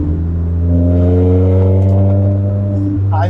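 A Lotus Exige S engine revs as the throttle is pressed, a loud steady drone with strong rising harmonics held for several seconds before easing off near the end, with brief faint sounds over the top.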